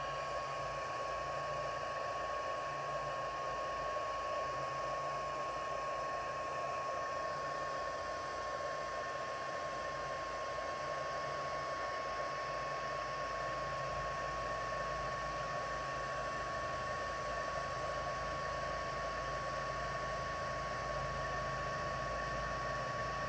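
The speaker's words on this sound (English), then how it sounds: "I'm just going to get my heat tool, and excuse the sound" An embossing heat gun blows steadily while heating craft material until it turns foamy, giving a constant, even whooshing whir with a faint tonal hum that runs unbroken from start to finish.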